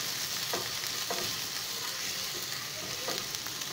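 Chopped or crushed garlic fries in oil over a medium flame with a constant soft sizzle, broken by a few dull scrapes and taps from a spatula stirring it at roughly regular intervals.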